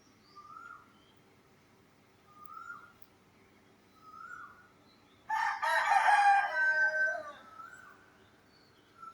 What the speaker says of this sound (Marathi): कोंबडा कसा पहाट पहाट आरवतो बघितलं